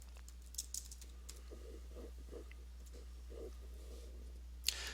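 Soft, intermittent keystrokes on a computer keyboard, a few short bursts of typing with brief pauses, faint against a low steady hum, ending with a sharper click.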